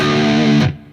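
Short burst of distorted electric guitar from a riff, a loud sustained chord that cuts off sharply after about half a second, leaving near silence.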